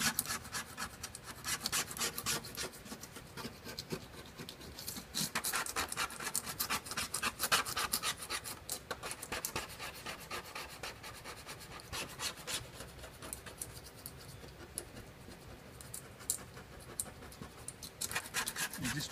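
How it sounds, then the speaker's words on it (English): Steady rasping scrape of old carpet glue being worked off the hull of a 1969 Boston Whaler 13, continuous rough strokes close up with no talking. "Scrape better from this direction."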